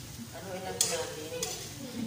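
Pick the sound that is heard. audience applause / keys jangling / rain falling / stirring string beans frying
stirring string beans frying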